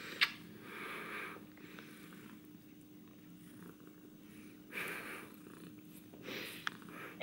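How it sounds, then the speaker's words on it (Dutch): A cat purrs close by in a continuous soft rumble with rhythmic breathing swells, fairly faint and alone with no talking. "Ik hoor hem hier nog spinnen."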